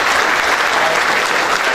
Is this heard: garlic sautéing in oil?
no